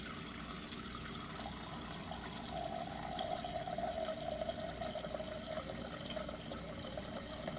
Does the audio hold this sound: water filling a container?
yes